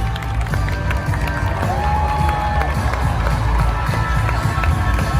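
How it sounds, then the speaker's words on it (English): Crowd noise from the audience at the 2019 Miss Universe competition, a steady roar of cheering and scattered clapping for contestants from the Africa and Asia Pacific region, loud and continuous throughout with no speech over it. "Another round of applause for the contestants from the Africa and Asia Pacific region."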